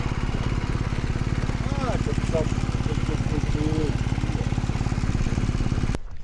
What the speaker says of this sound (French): Attends, je vais avancer un petit peu la moto.